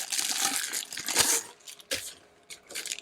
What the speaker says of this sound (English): So the cardboard box is pretty plain on the outside here. Open it up.